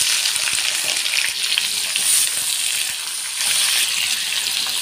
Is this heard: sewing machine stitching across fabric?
no